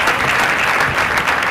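Loud, dense applause from a large audience at a fashion show during the closing ceremony of a khadi festival, a continuous, close wash of clapping hands throughout.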